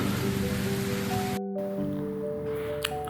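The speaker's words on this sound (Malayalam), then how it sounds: "നല്ല മഴയുണ്ട്" Steady rain falling at a cottage in Nagarkot, Nepal, a dense continuous hiss that cuts out briefly midway, with a few faint tonal hums underneath and no voices.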